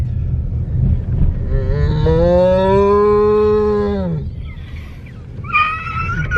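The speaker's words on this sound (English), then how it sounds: "This is a cow." A cow on the Isle of Skye gives one long, loud, close moo that slides down at the end. It is followed by a shorter, higher call over steady outdoor background noise.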